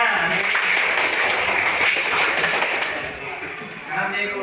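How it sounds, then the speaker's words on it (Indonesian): A classroom of students applauds together, a dense continuous burst of clapping that fades slightly toward the end, with voices mixed in. "Oke, kasih tepuk tangan."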